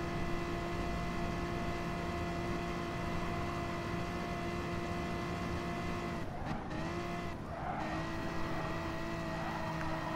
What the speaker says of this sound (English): This car sounds sick.